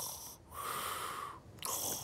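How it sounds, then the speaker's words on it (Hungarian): A person snoring loudly in a train compartment, two long wheezing snores separated by short pauses, close and clear. "Milyen hangosan horkol."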